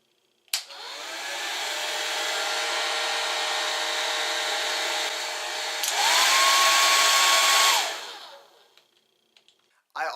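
A Revlon hair dryer runs steadily for about seven seconds, a loud broadband blowing roar with a constant motor whine, then shifts to a louder, higher setting near the end before switching off; no talking.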